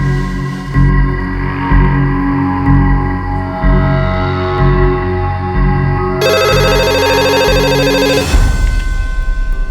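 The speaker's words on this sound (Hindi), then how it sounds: "फोन लगा।" A telephone rings with a warbling electronic tone, steady and fairly loud, then cuts off abruptly near the end.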